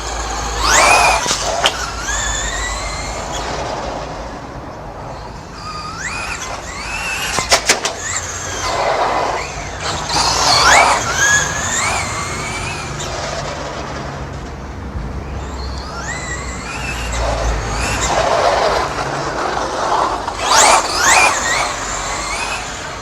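A Traxxas Slash 2WD electric RC car runs at full power on an indoor clay track, its motor whining in rising sweeps again and again as it accelerates and slows through laps, fairly loud with no talk.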